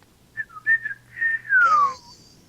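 A human voice imitates R2-D2, the Star Wars droid, with a run of short whistled chirps and then a longer falling whistle. The sounds are close and clear, with no other sound behind them.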